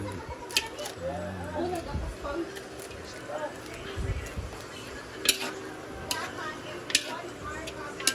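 Dried pancit canton noodles are stirred in a pan, with scattered clinks and scraping taps of a utensil against metal and faint sizzling beneath. Someone talks over the cooking.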